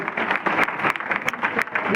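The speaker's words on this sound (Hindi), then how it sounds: "एक बार सर के लिए जोरदार ताली बजाइए" A seated audience claps in a short burst of applause, individual hand claps audible and fairly close, with some voices murmuring underneath.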